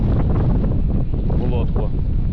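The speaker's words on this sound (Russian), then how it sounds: "Ветер такой, что аж задувает воду" Strong wind roars and buffets the microphone on a lake while fishing from a boat in July, a constant heavy rumble throughout, with a muffled voice faintly underneath.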